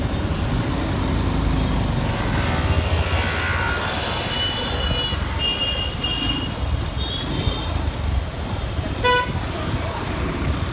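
A Yamaha FZ-S V3 2023 motorcycle runs steadily through heavy city traffic, its engine drone blending with a constant roar of surrounding vehicles, scattered horn toots and a brief beeping near the end.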